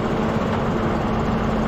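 A tractor engine runs steadily while ploughing a field, a loud continuous low rumble with an even drone and no pauses.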